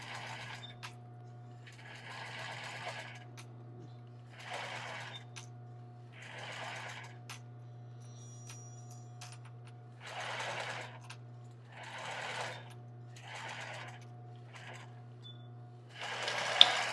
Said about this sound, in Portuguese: Pequeno retrocesso e rebati todo esse elástico